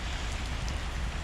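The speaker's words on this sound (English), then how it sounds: "The game is called on the account of rain." Steady rain falls on a construction yard, a dense, even hiss of drops hitting surfaces that holds constant throughout, close and loud with no voices.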